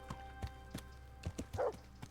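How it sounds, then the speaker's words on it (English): A dog barks several times in the medieval video game Kingdom Come: Deliverance, short irregular woofs set over soft background music with no talking. "Is that the pig? Oh, it's my dog."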